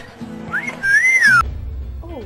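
A person whistles a short rising and falling tune, clear and close, with a few brief tones before and a soft low rumble after.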